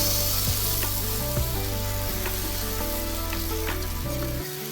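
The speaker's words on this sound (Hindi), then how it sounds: "इसमें मिक्सर भर के तवे के ऊपर डाल देंगे" Steady, loud sizzling of gram flour batter frying on a hot griddle, with a few light scraping clicks as it is spread with a spoon.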